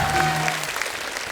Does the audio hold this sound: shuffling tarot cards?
no